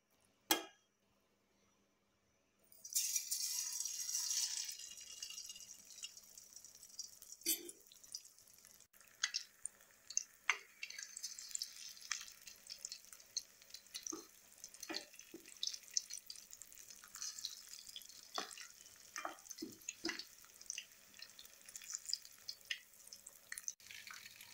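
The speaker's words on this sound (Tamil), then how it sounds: "இப்போ இது நல்லா ஃப்ரை ஆகட்டும்." Soya chunks deep frying in hot oil give a steady crackling sizzle with scattered sharp pops. It starts after a brief quiet moment and stays close and fairly loud throughout.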